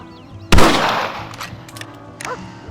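A single sharp rifle shot in the Red Dead Redemption video game, loud and close, followed by a decaying echo and a few fainter distant pops.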